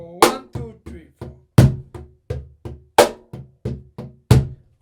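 A cajon is hand-played in a steady pop rock rhythm, with deep bass thumps alternating with sharper slaps. The groove is loud, close and evenly paced, with no voices.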